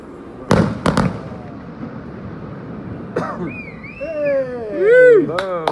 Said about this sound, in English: Nice of Hamilton Island to put on some Australia Day fireworks.